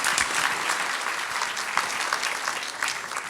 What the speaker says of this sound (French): On peut l'applaudir, Julia.